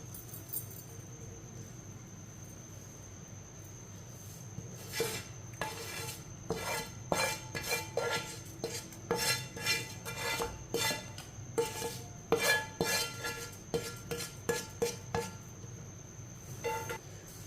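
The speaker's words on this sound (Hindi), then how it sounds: "अचार को अच्छी तरह मिक्स कर लेंगे" Raw mango pickle being mixed with spices in a pan, a spoon scraping and knocking against the metal in an irregular run of clinks and stirs, quiet at first and then busier, with no talk.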